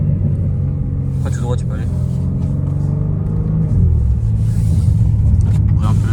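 A 2021 BMW M3 Competition rated at 510 hp and 650 Nm, heard from inside the cabin while driving: a steady low engine rumble with a slight swell near the end, running beneath someone talking.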